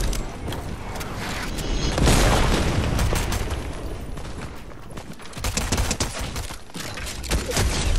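Explosions tear through a house in a battle video game, heavy booms and crackling bursts layered with rattling debris and gunfire-like pops, loud and continuous.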